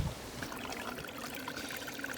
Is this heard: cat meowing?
no